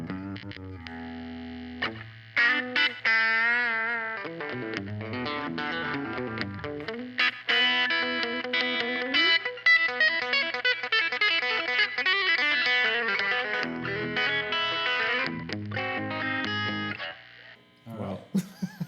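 Handbuilt electric guitar, a Telecaster or Stratocaster type, played through a distorted, effects-laden tone, with sustained chords and melodic runs ringing loud and steady before trailing off near the end.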